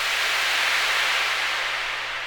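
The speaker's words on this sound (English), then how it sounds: "I just took some pink noise and sent that to the same reverb with all the rest of the other instruments as well" Pink noise passed through reverb in a beat, a soft, steady broadband hiss that holds evenly throughout and fades slightly at the end, alone with no other instruments.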